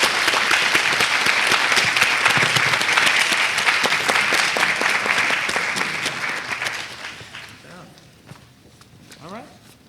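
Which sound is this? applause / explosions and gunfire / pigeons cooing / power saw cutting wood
applause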